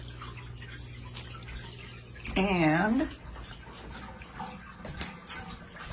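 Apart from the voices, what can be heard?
water flowing out of an aquarium through a DIY siphon tube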